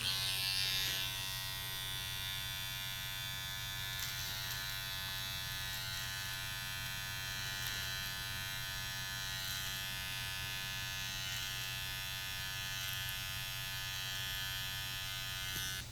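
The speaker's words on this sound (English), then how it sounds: "now I'm gonna hit it with the trimmer" An electric hair trimmer buzzes continuously up close while cutting hair for a high bald fade. The steady, even hum lasts throughout with no talking.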